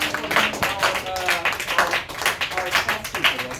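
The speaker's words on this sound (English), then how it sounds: "So I want to give a big round of applause to Alyssa and Sam" Middle school students at a career day give a round of applause, close, uneven clapping bursts filling the short stretch with no talk.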